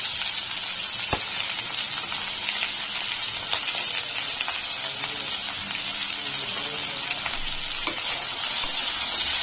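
Salt, turmeric and red chili powder fry in a pan for a vegetarian Bengali mustard-tomato dish, giving a steady, even sizzle and crackle throughout with occasional louder pops.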